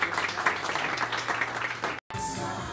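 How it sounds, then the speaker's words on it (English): An audience applauds at a couture fashion collection event, with steady, dense clapping filling the first two seconds before a brief break and a quieter continuation. "Let's give her a round of applause."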